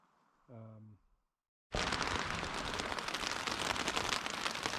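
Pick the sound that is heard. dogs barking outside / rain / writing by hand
rain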